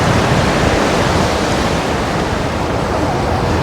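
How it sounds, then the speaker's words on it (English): Steady, loud rushing water pours down a river fish ladder in Munich, a dense continuous roar like surf with no breaks, close and unvarying throughout. "there's the fish ladder here for the fish to go down the river or up the river"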